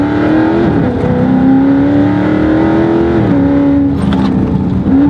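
A 2016 Dodge Charger 392 Scat Pack's V8 roars loudly and close under hard throttle, holding a strong steady pitch that dips briefly at a gear change before climbing again.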